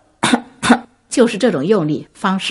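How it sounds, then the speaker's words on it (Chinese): Two short, forceful coughs with a tight, pressed onset open the passage, after which someone speaks steadily in Mandarin. "咳嗽"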